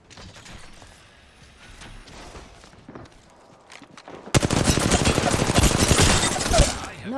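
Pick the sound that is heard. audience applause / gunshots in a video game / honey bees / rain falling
gunshots in a video game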